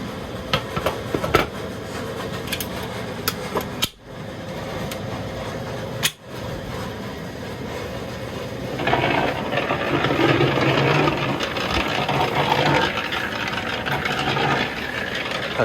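A farm feed mixer churns compound rabbit feed together with hay. It gives a steady mechanical rumble and whir that continues throughout, with a couple of brief dips, and grows louder and fuller partway through.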